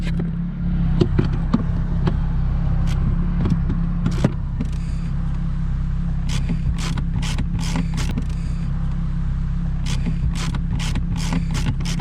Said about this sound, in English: Bob just made the oil change on his Grand Touring. Now he's looking for a leak.